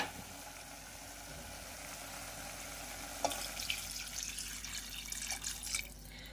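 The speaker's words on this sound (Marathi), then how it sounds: "आपण यावर आता गरम पाणी घालून घेऊया" A faint low hiss, then water splashes into a hot pan of chicken, bubbling and sizzling briefly before settling into a gentle simmer.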